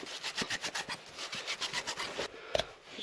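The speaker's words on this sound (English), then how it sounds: "I'll just ream this" Reaming of a small scrap copper pipe piece, a rapid rhythmic scraping and rasping of about a dozen strokes, close and fairly quiet, ending with a sharp metallic click.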